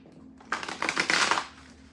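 A deck of oracle cards is shuffled by hand in one brief, crisp riffling burst lasting about a second, close by and alone in an otherwise quiet room.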